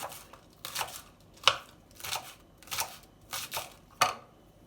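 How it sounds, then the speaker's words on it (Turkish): Six crisp, evenly spaced knife chops through onions on a board, close by, each a short broadband burst with quiet gaps between, no voices. "Soğanlarımı yıkadım. Şimdi doğrayacağım."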